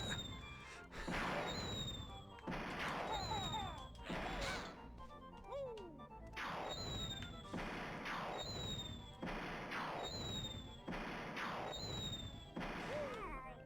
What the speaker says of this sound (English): I got defeated by the smoke of the explosion